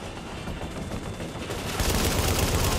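Sustained automatic gunfire from the Russian consulate mission in Tom Clancy's The Division, dense rattling bursts that grow louder and more intense toward the end, with no talk over them.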